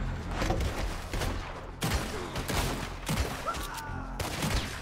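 Gunfire in the video game Red Dead Redemption 2, a rapid fusillade of shots in several close, sharp bursts spread across the whole stretch, with only a hint of voice underneath.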